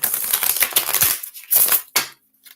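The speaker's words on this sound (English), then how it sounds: "One more shuffle." A deck of tarot cards riffled and shuffled up close, a run of rapid crisp flutters and snaps followed by a few separate sharp card riffles and a short tap at the end.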